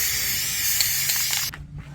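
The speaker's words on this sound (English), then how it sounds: "I'm gonna spray some zinc coating on the inside" An aerosol can of zinc coating sprays in a steady, loud hiss for over a second, then cuts off, leaving a couple of soft clicks and faint rustling.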